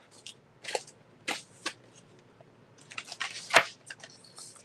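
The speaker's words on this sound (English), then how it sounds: "So I'm going to cut this 8 inches." Scissors cutting through scrapbook paper, a series of quiet, close, crisp snips and rustles spaced irregularly, with a slightly louder cut near the end and no talking.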